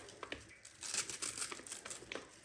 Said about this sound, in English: I'll get some of the, leaves off top and I'll roll them up